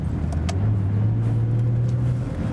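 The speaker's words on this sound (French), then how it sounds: "Ce V6 biturbo de 536 forces." A Nissan GT-R with a 536-horsepower twin-turbo V6 drives along, its engine holding a steady, loud, low drone throughout without pauses.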